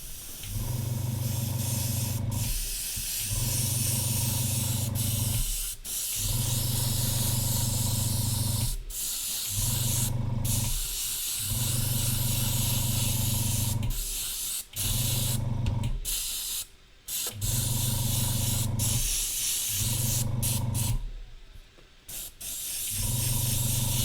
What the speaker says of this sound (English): Let me just spray this varnish and then I'll explain what's in it.